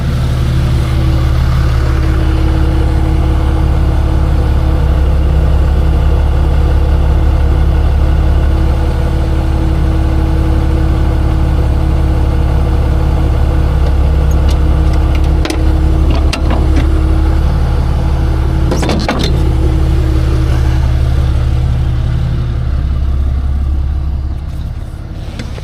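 A tow truck's engine idles steadily while lifting a dead Tesla, a loud continuous low drone with a few brief metallic clanks near the end.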